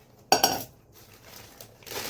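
A heavy 24 cm HomeZone triply stainless steel tawa and its lid are handled, giving a sharp metallic clank followed by softer scraping and light clinks, close and fairly quiet with no talk.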